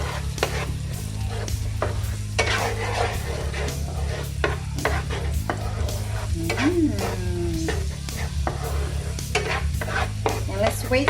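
Garlic sizzles steadily in a hot pan while a utensil stirs and scrapes it, sharp rhythmic clacks cutting through the constant close frying hiss.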